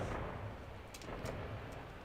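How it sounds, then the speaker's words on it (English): Fireworks go off in the video game No Man's Sky: a few faint, distant crackling pops burst at irregular intervals over a low, quiet rumble of ambient game sound. "Fireworks."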